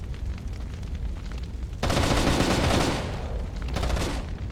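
Gunfire in Rainbow Six Vegas 2 during a competitive LAN match, a sudden loud burst of rapid shots and booms that stays intense, then fades slightly before another flurry.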